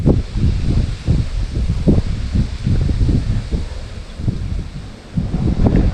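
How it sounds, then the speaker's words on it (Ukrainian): Strong wind buffets the microphone in heavy, continuous gusts, rumbling low and loud with no voices. "вітер в лице. І дме так, що ховайся"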